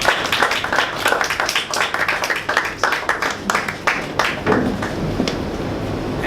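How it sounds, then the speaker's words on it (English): A small group applauds after a Toastmasters-style club speech, individual claps distinct and fairly close, steady for several seconds before tapering off. "Please give him a round of applause"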